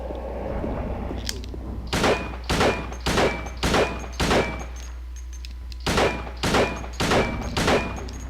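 Gunfire in the survival horror game Silent Hill 2, about ten sharp, loud shots in two bursts, evenly spaced, each ringing briefly with a metallic tail over a low ambient hum, with no talking.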